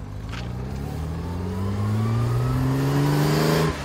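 A 1958 Lister Knobbly racing car engine revs steadily upward with rising harmonics, loud and close, held for several seconds before cutting off abruptly, with no voices.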